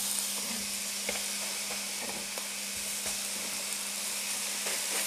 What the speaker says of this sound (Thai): ไฟไม่ค่อยแรง ใส่เบคอนสัก